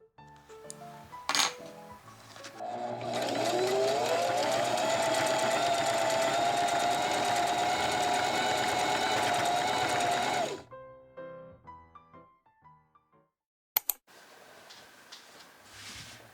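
A regular household sewing machine stitches leggings fabric in a steady, whirring run of needle clatter for about eight seconds, followed by scattered clicks and small handling taps, close by with no talking.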